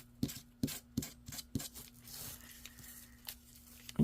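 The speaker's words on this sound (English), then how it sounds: "When you come along and sand it after you put the sticker on and give your sticker a little grunginess, just sanding the extra off here." Sandpaper rasps over the edge of a washi tape sticker, a series of short, crisp scratching strokes at close range, unevenly spaced, with a faint steady hum underneath.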